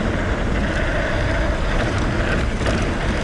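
Loud, steady wind buffeting a GoPro Hero7 Black's microphone during a mountain bike descent down 5 Oaks and Steps at Aliso/Wood, a continuous roar with no pauses and no talking.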